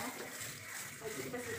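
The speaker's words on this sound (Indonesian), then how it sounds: "kita sikat dulu di air yang mengalir, airnya sedang." Medical instruments scrubbed with a brush and detergent under moderately running tap water; a steady hiss of flowing water continues throughout, with a voice talking over it.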